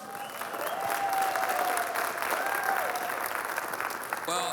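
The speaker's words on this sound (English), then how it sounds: "how about a round of applause for this great leader?" Audience applause after a keynote introduction at a policy forum, a steady, fairly quiet roar of many hands clapping, with faint voices under it.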